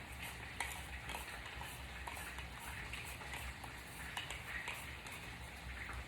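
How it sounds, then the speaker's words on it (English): Spinning garlic slicer cutting a garlic clove, giving a faint, steady rattling and scraping whirr with small regular clicks that keeps going throughout, close up and quiet. "And all you do for this is just spin it, and it'll slice up the garlic."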